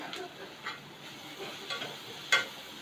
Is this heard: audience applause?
no